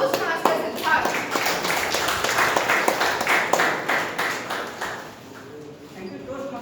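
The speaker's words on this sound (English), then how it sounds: "With a huge round of applause, help me welcome Toastmasters Siddharth." Applause from a Toastmasters meeting audience welcoming a speaker: distinct, fairly close individual hand claps in a loose rhythm, thinning toward the end, with some voices mixed in.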